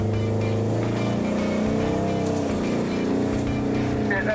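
A Jeep engine crawling up a rocky ridgeline in Moab, with a loud steady drone that rises and shifts in pitch as it labors over the terrain.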